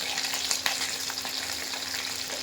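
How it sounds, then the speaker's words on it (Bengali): Potatoes fry in hot oil and spice masala in a pot for chicken pulao, making a dense, steady, close sizzle with a couple of faint stirring knocks and no voices. "আমি একটু আলুগুলো দিয়ে একবার জাস্ট একটু ভেজে এই মশলার মধ্যেই তুলে নেব।"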